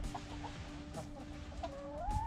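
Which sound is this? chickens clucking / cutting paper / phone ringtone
chickens clucking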